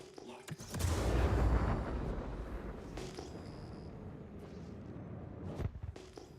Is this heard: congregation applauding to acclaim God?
no